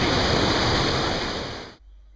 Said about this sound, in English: So this is one of the main attractions, the Kulen waterfall, about 15 meters or so high.